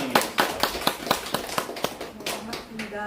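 A small audience at a disability awareness day talk show claps to welcome a guest, giving quick, uneven rounds of applause over about three seconds.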